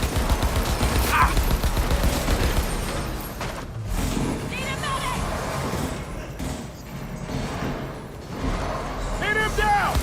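Dense gunfire in the video game Cyberpunk 2077: rapid bursts of shots and clatter fill the scene, with shouting voices over the top.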